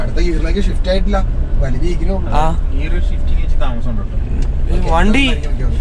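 A 2020 Mahindra Thar driving off-road, its engine droning steadily underneath as people talk over it nearly the whole time.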